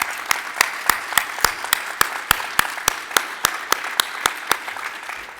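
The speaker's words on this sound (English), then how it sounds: "let's offer a round of applause to all of our award winners this afternoon" Applause for award winners at a conference awards luncheon, heard as a steady run of sharp, evenly spaced claps, close and distinct, with softer crowd clapping underneath.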